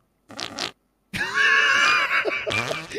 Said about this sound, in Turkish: Her kimse osurmasın